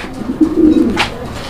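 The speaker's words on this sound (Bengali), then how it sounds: "মানে ডাক কি ডাক দেখছেন, শৌখিন কবুতর" A fancy pigeon at a farm gives a single loud, close cooing call that swells and fades over about a second.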